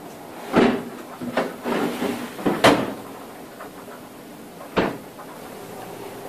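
Deep drawers of a Swan SR11020CN freezer slide open and shut several times, giving sharp plastic knocks and sliding rumbles close up at irregular intervals with brief quiet gaps between them.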